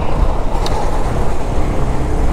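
A traffic jam stretching over 20 km, with cars and trucks, rumbles steadily and loudly around a motorcycle, a dense continuous engine and road roar with no voices.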